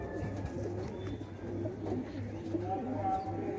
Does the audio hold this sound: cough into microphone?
no